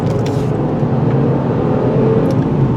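A 2019 Mercedes-Benz E450 4MATIC convertible cruises along a road, its engine and tyre roar forming a steady, loud low drone with light wind noise and no speech.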